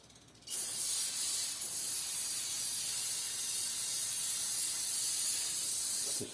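Throttle cleaner sprayed from an aerosol can onto motorcycle brake calipers, a loud, close, continuous hiss starting abruptly after a short quiet moment and holding steady for about six seconds.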